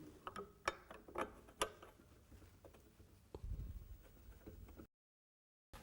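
Centre column rod of a budget product-photography light unit being fitted into the front of the unit: quiet, close plastic clicks and taps in an irregular run, then a soft scraping rub before the sound cuts off.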